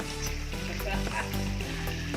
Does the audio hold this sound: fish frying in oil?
yes